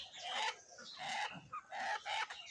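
Hill Laiza and native desi hens on a poultry farm cluck and squawk in repeated bursts, fairly close, with a rooster-like call among the flock.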